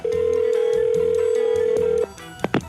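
A telephone call rings through on a steady, unbroken tone for about two seconds, then a few sharp clicks follow as the line connects. No one speaks.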